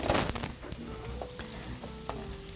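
Fried zucchini sizzling in hot oil as pieces are scraped and moved into a salad bowl, steady close crackle with a few sharp knocks of the utensil.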